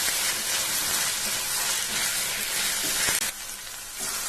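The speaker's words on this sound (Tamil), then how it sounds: "இவர் இப்ப நல்லா வதங்கிட்டு இருக்காரு." Ginger garlic paste sautéing in a hot pan for Chinthamani chicken gives a loud, dense, continuous sizzle close up, dropping slightly quieter near the end.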